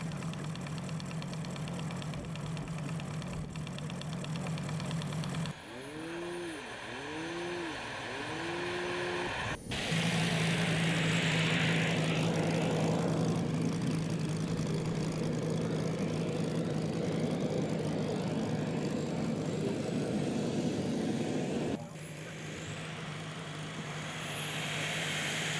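Model airplane engine at a fun fly event in Beckum, Germany, running steadily with a loud buzzing drone that shifts pitch partway through and holds on for most of the stretch, with outdoor ambience around it.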